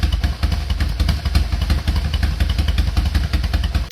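Kawasaki KZ750 twin motorcycle engine idling warm before a carburetor float level adjustment, a steady, loud, close lumpy throb with rhythmic exhaust pulses and occasional popping, no talk.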